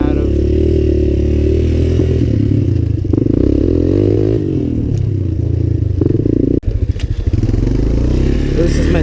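A Suzuki LTZ 250 four-wheeler with its stock exhaust runs nearby, a low throbbing engine note that rises and falls with the throttle, with clattering and a sharp knock partway through, while a person talks over it.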